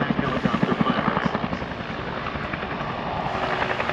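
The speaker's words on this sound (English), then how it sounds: "you are witnessing America's first and second generations of attack helicopters being flown in the same airspace" First- and second-generation attack helicopters, including Cobras, fly at the Dayton airshow, their rotors beating in a loud, rapid, steady thump over a dense engine roar.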